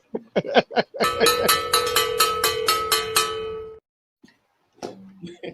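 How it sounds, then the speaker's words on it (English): A race bell rung repeatedly in a quick run of bright metallic clangs lasting a few seconds, loud and close, preceded by brief talk and followed by a voice. "Can we ring that race bell real quick?"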